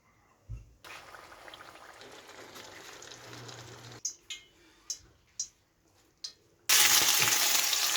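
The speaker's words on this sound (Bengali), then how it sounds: "এখানে আমি ইলিশ মাছ ভেজে নিব" Steady sizzle of hilsa fish frying in oil, broken by a few sharp clinks and taps, then a louder burst of hissing near the end.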